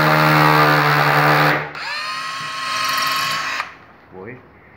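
A 12 volt impact driver whirs loudly at close range, one long high-speed run followed by a second run at a different pitch, then it winds down; someone speaks briefly near the end.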